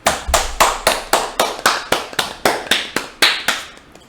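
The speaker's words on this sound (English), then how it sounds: "We're gonna give a round of applause." Single pair of hands claps close and loud in an even, steady rhythm, about fourteen sharp claps, with no talk.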